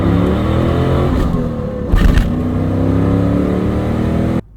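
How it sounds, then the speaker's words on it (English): A 1998 Chevrolet Camaro Z28, the Catfish body style, with its V8 engine revving loud and close in a steady sustained roar, swelling briefly near the middle before cutting off. "Today we're driving a 1998 Camaro Z28."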